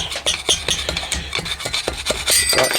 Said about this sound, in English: that's going to take a bit of scraping